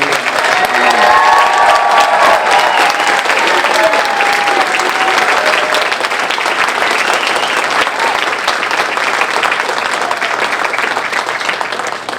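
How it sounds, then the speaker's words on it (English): A large audience at a senior Hall of Fame induction ceremony applauds continuously, a dense sustained wash of clapping with a few faint cheers early on. "they deserve another huge round of applause for all the accomplishments"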